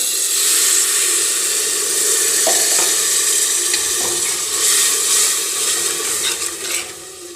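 Water goes into frying masala with Kashmiri chili and garam masala, and the pan gives a loud, steady hiss and sizzle close up, with light stirring scrapes throughout.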